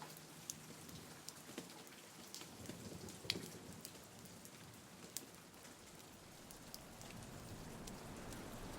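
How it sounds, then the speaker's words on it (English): Light rain pattering steadily on surfaces, with scattered sharper drops. The patter is soft and fairly distant, with no other sounds. "The patter of rain,"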